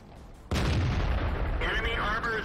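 A tank gun fires in World of Tanks: one sudden loud boom that rolls into a long rumbling tail, followed by fainter game effects.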